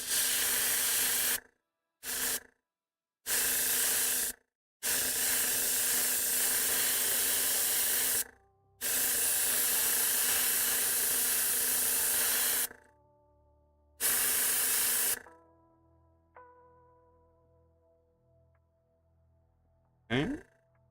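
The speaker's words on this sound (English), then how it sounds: "Gonna still hit the bottom at least with some Nuln oil, just so I can darken it again. I'm overspraying a little too harshly" An airbrush sprays Nuln Oil wash onto a painted miniature in a series of close, hissing bursts, some short and some longer. Quiet follows, with faint ringing tones and a brief final burst.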